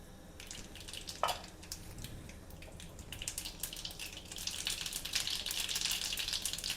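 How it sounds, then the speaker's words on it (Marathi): Mustard seeds spluttering in hot oil in a wok, a faint, continuous crackle and sizzle that grows busier toward the end, with no talking. "मोहरी छान तडतडली आहे."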